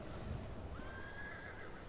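A horse in the Elder Scrolls Online game gives a single drawn-out whinny, fairly faint against a steady background of ambient game noise.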